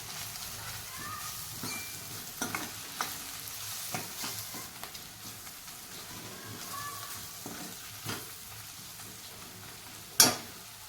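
Continuous sizzling from a pan of onion, tomato and dry spices frying for whole masoor dal, with scraping stirs throughout and a sharp metallic clank near the end.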